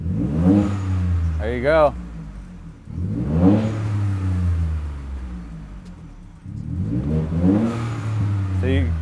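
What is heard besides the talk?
car turbo blow-off valve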